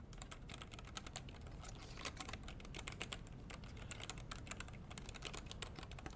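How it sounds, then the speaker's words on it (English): Soft, steady typing on a Royal Kludge N80 low-profile mechanical keyboard with red switches, a quick run of light, muted key clicks close to the microphone with no voices. "Maybe you can hear the typing noise."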